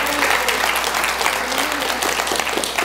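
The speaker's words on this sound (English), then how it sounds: "give the Lord a praise clap in this house" A church congregation claps together in a loud, continuous round of praise applause, a thick steady patter of many hands filling the room, with a few voices calling out beneath it.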